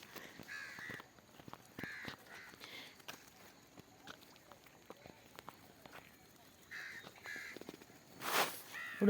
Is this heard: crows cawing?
yes